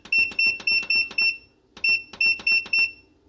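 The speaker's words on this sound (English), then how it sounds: "Timer." A digital timer alarm on a graphics card cleaning setup beeps loudly in quick bursts of four short electronic tones, pausing briefly before repeating the same pattern.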